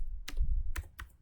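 A computer keyboard is typed on briefly and close up, giving three distinct clicky keystrokes over a low hum, with no talking.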